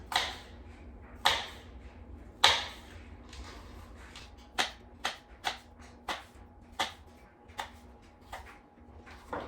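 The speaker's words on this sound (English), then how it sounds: "just cut them into as small of a pieces as you can." Knife chopping apple slices into small pieces on a cutting board, a series of crisp, close taps, a few spaced out at first and then a quicker steady run, quiet with no talking.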